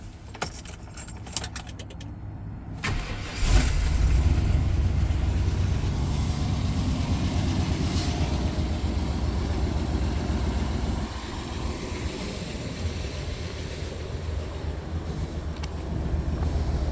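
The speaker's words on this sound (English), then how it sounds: "Let's fire this thing up. Let you hear that 454." A 1999 Chevy Suburban 2500 with a 454 big block V8 cranks after a few seconds of quiet, then settles into a steady, low, rumbling idle close by that holds for the rest of the stretch.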